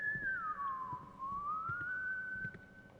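Ghost whistling in the video game White Day: a single sustained whistled tone gliding down and then back up over about three seconds, clear and fairly close, with faint game ambience beneath and no talk.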